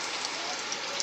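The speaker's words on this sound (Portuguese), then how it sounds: "Chuva muito boa, chuva abençoada aqui, chovendo bastante, meu povo." Heavy rain pours steadily outdoors, a dense even hiss of drops striking surfaces with no gaps, loud and close throughout.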